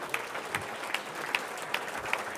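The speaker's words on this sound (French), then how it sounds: "Acclamons le Seigneur." A church congregation applauding the Lord at a New Year's Eve service, with light, scattered clapping and a few sharper claps standing out.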